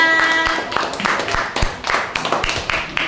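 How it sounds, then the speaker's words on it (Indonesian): In a classroom, students clap for a group with scattered, uneven claps over a few seconds, close by, while a voice is briefly heard at the start. "Kita berikan tepuk tangan untuk kelompok 3."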